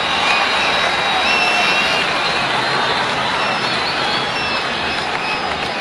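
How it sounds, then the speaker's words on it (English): A cricket crowd at an international match roars after back-to-back boundaries, a loud, sustained, wide wash of cheering with whistles threading through it. "The crowd find their voice finally."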